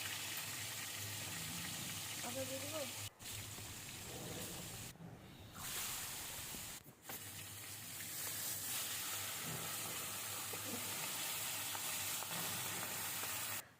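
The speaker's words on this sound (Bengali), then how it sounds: "এখন মাছগুলো আমি কড়াইয়ে দিয়ে ভেজে নেব।" Fish rubbed with salt and turmeric frying in a wok for a Bengali fish curry, a steady broadband sizzle running throughout with a couple of brief dips and faint clinks of stirring.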